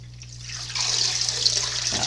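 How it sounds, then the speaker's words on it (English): Water pours and splashes steadily as it drains out of a pot in a home kitchen, a continuous close hiss and gurgle over a low steady hum, growing fuller partway through. "So I'm going to drain this water out."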